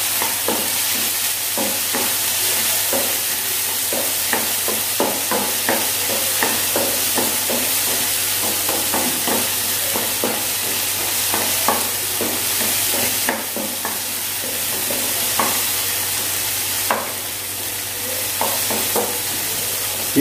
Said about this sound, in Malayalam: ഇതിന് ഓൾറെഡി വേവിച്ച് വെച്ചിരിക്കുന്ന ഗ്രീൻ പീസാണ്. ജസ്റ്റ് ഒന്ന് ചൂടായി മാത്രമേ ഉള്ളൂ